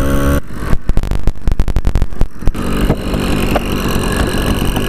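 A stock high-performance carb on an 80cc Zeda engine idles steadily and loud up close, after a few sharp bursts near the start as the throttle settles to idle.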